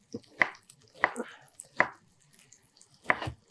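Onions chopped on a board with a knife: four crisp, separate knife strikes spaced roughly evenly across a few seconds, close and clear against a quiet background.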